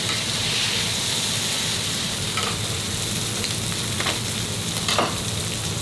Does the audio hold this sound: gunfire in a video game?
no